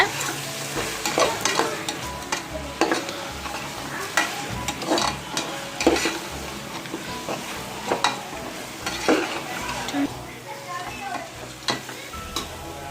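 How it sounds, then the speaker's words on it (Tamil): Chili powder and spices sizzle and fry in a hot pan while a spoon stirs and scrapes repeatedly, close up, with faint background noise. "மிளகாத்தூளில் இருக்க பச்சை வாசனை போகிற வரைக்கும் நல்லா வதக்குங்க"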